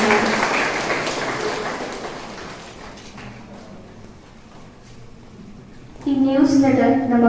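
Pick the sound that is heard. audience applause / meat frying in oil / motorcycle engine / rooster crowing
audience applause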